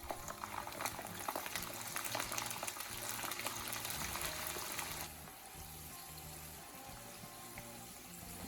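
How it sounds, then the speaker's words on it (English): Garlic frying in hot cooking oil, a busy bubbling sizzle that is loud at first and then drops to a softer, steady crackle partway through. "Once the oil is hot, add the garlic and fry until golden and fragrant."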